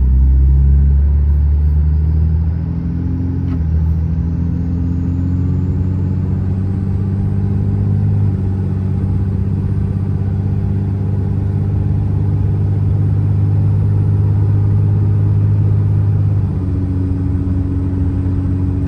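A Cummins diesel truck cruises down the road with the AC off, a steady low engine rumble and drone, loud and close throughout, shifting slightly in pitch with no talking.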